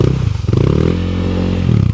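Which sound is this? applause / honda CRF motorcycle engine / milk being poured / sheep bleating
honda CRF motorcycle engine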